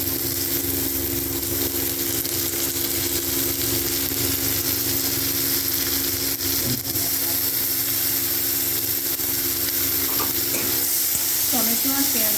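Onions and tomatoes sizzle loudly in a hot pan while being stirred, a continuous close frying hiss with faint scraping of the spatula and no voices.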